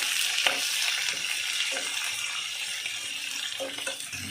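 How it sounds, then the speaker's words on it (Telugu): Onions, ginger and curry leaves frying in a pan for upma, a steady bright sizzle with a few soft stirring knocks, close and continuous without talk. "ఫ్రెండ్స్, ఇలా డార్క్గా ఫ్రై చేసుకోవాలండి ఇవన్నీ"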